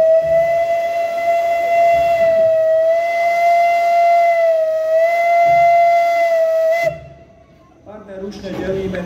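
A steam locomotive gives one long, loud, steady whistle blast lasting several seconds, then stops abruptly, leaving quieter ambient noise.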